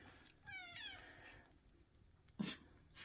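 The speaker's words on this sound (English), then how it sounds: "Our cat has the whiniest meow." A house cat lets out a whiny, drawn-out meow at close range in a quiet kitchen, followed by a short, sharper second cry.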